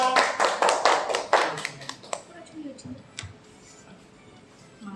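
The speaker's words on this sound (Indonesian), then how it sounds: "Tepuk tangan untuk Riandika." Students in a classroom clap for a classmate, a burst of quick, close hand claps that soon thins into a few scattered claps and fades, followed by quiet room sound with faint voices.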